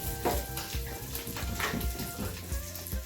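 Byadgi chilies and curry leaves sizzle in hot tempering oil on a stove, a steady close crackle with repeated low clatters of stirring throughout.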